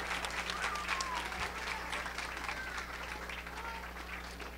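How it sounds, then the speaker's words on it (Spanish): Congregation applause at a church retreat worship service, a soft, distant wash of many hands clapping at steady level, with a low electrical hum and faint voices mixed in. "Un aplauso fuerte al Señor, hermano"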